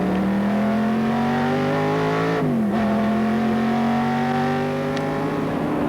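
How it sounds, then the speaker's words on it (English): An onboard Shelby Cobra race car engine howls loud and close at the Montlhéry circuit, its steady revving pitch climbing, dipping briefly at a gear change, then rising again. "Let's go on board Henri Pescarolo. He's driving here at Montlhéry."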